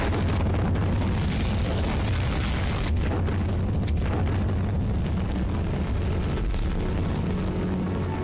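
An Incendio fire spell cast in Hogwarts Legacy gives a continuous loud, roaring rush of flame with deep booming rumble and a few sharper cracks, sustained without pause.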